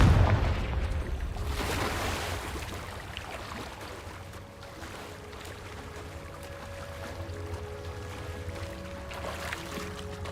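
A Confringo fire spell blasts in Hogwarts Legacy with a loud booming burst at the start, followed by lingering rumble and sustained magical crackling with tonal hums in the background.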